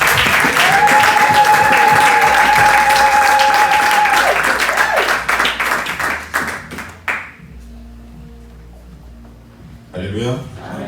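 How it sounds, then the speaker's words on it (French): Church congregation at a Sunday service applauding and cheering, a loud dense burst of clapping with sustained vocal acclaim that thins out and fades to scattered claps and voices toward the end. "Laissons-nous acclamer le Seigneur."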